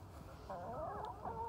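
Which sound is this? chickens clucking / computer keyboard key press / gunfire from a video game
chickens clucking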